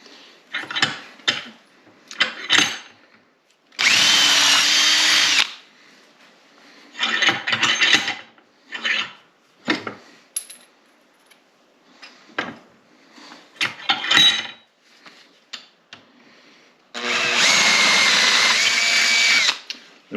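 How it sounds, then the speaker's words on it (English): Several bursts of a power drill whirring through material, drilling holes out to 3/8 inch, each a few seconds long, with shorter clicks and handling noises between them, close by. "So I'm just drilling these out too"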